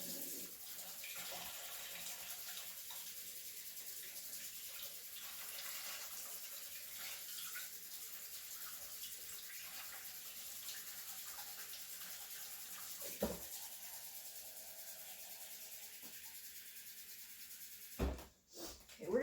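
Warm water pours steadily into a bucket at low level for most of the span, followed near the end by a few louder knocks and clunks.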